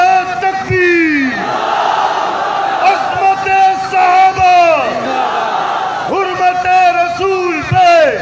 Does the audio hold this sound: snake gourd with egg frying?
no